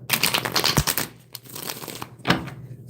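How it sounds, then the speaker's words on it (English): Tarot cards are shuffled by hand, giving a run of quick, dry riffling and flicking bursts with short pauses between them. The sound is close and moderately loud, with no talking. "let me shuffle these properly"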